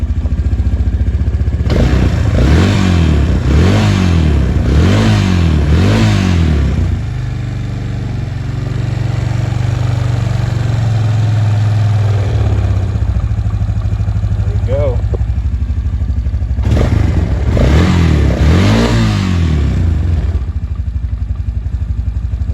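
Suzuki LTZ250 QuadSport ATV engine runs loud and close with repeated revving bursts, settling into a steady idle, then revving again near the end.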